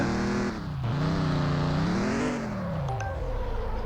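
Tofaş Şahin engine revving in a mobile driving game, a continuous loud drone whose pitch dips, climbs steadily and then falls away, with a few faint electronic blips near the end.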